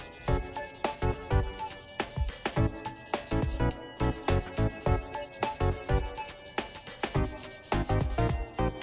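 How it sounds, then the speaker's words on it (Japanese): A file rasps in quick, repeated strokes over the part lines of a plastic model kit figure, producing close, crisp scraping bursts in a steady rhythm with short pauses between passes. "次にパートラインをヤスリがけしていきます。"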